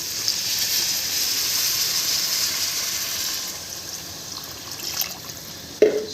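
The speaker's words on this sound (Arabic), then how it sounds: "معانا هنا ميه سخنه" Hot water is poured into a pot for cooking rice for Alexandrian koshari, a continuous, fairly loud pouring hiss that slowly fades toward the end, followed by a short knock of a pot or utensil.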